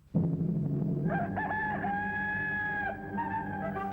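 A rooster crows loudly in one long, drawn-out cock-a-doodle-doo, close and clear, with no one talking over it; it plays as part of an old wartime newsreel.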